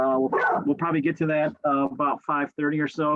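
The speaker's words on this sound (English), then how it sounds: "And sorry about my dog." An excited pet dog barks and whimpers in short bursts close by, partly under a person talking steadily indoors.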